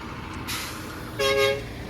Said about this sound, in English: These trucks are all offloading coal from that ship.